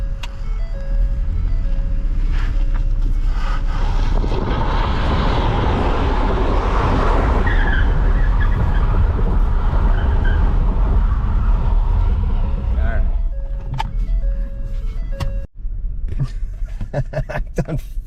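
Ford Taurus with a cylinder 4 misfire, recently pulled from a flood, doing donuts: a loud, steady engine roar with tire noise running for most of the stretch, then easing off near the end.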